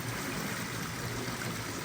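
Water flowing beneath in a natural stream, a continuous soft rushing and trickling wash heard close and steady, with no voices.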